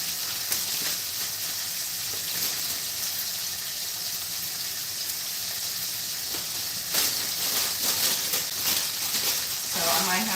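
Beef slider burgers sizzle steadily in a pan, a continuous broad hiss with crackling spits throughout, loudest and brightest near the end.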